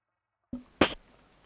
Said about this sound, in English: Oh, just had to have a sneeze there.